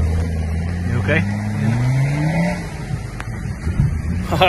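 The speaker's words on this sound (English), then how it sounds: "now just listen to that L200. What a sound" A Mitsubishi L200 pickup engine works through a river crossing, a steady close engine drone that rises in pitch as it revs, with water noise and voices talking over it.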